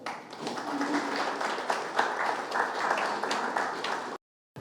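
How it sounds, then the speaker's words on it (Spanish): Audience applause at a university lecture on critical thinking, a dense, steady clapping from a seated crowd that fills about four seconds before cutting off abruptly. "lo recibimos con un fuerte aplauso."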